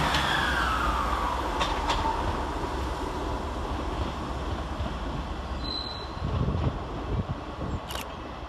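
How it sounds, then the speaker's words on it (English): ScotRail class 158 unit 158723 running into the tunnels at Edinburgh Waverley on the service to Perth, a moderate rolling rumble with wheel clatter, a squeal, and a camera shutter click near the end. "Heading into the tunnels is 158723, working the 1438 ScotRail service to Perth."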